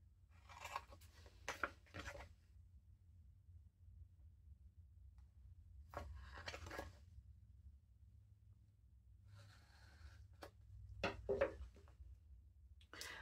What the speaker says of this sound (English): So I'm literally just cutting out the marks that I made here.